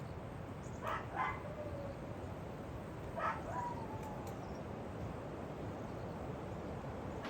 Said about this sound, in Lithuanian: Šunieks va mumis pasitink.